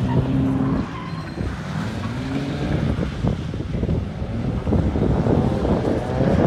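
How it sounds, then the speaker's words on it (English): A car spinning a donut on a drift day, loud throughout, with engine revving in rising and falling sweeps, tire squeal and skidding noise, and heavy wind buffeting on the microphone. "So that was my first attempt at a donut, and it just didn't go well."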